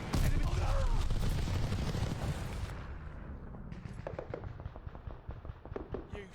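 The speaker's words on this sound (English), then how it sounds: "Enemies call a strafing run." In Call of Duty: Vanguard, a strafing run tears in with a loud, dense roar of gunfire and explosions that thins into a string of sharp, separate shots near the end.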